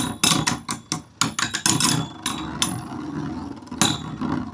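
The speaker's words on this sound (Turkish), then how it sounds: "Çok garip bir demir sesi geliyor bu arada." Beyblade spinning tops battle in a stadium with a rapid flurry of sharp metallic clacks and knocks, close up, settling into a rattling whir with a few more hits, and no voices.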